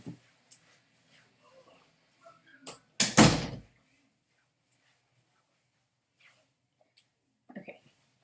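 A door shuts with a single loud, sharp thud partway through, standing out against a quiet room with faint scattered rustles and small knocks before and after.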